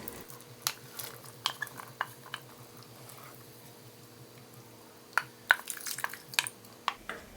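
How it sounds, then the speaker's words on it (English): Broth swished and stirred in a pot of red beans for red beans and rice, with scattered spoon clinks against the pot over a low simmer, quiet and close, with a busier cluster of scraping near the end. "we're just swishing a little bit of the broth in here to get all of that good bean juice into the pot"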